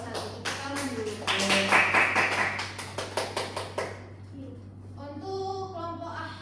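A classroom of students claps in unison for a group, a quick run of sharp rhythmic hand claps lasting a few seconds, then fading as a teacher's voice continues over a low steady hum.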